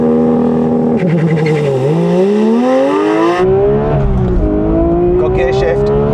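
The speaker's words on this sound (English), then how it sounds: "I'm going to launch the GT3, time it from 0 to 60 and over the standing quarter mile" A Porsche GT3 launching hard from a standstill with the clutch dumped, its engine loud and close, pitch sweeping upward through the revs with a sudden shift partway and then climbing again, talk faintly over it.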